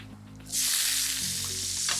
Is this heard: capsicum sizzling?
yes